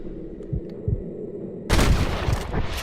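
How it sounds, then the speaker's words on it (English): Muffled low thumps pop at a slow pace, then a loud burst of rapid gunfire bursts in and keeps crackling through to the end, in Red Dead Redemption. "I can hear more gunshots."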